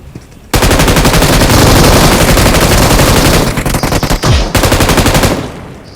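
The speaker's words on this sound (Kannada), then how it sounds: "ಓಯ್ ಇದು ಯಾವ್ದು ಗನ್ರಿ ಅವ್ನು ಹೊಡೆದಿದ್ದು?" Rapid automatic gunfire from the mobile battle royale game BGMI, loud and sustained bursts of close shots filling most of the stretch, with a brief dip before firing resumes and then tails off.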